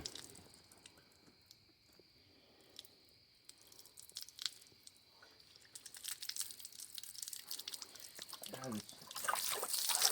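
Water sputters and trickles from a weak garden hose nozzle onto an engine block during a Honda D15 rebuild prep, quiet and intermittent at first, then splashing more steadily and louder in the second half, with someone talking at times.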